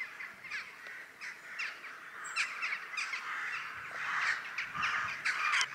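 Many crows caw continuously around a church and its graveyard in rural Dumfries and Galloway, Scotland, a busy overlapping chorus of harsh calls at moderate distance with no talking.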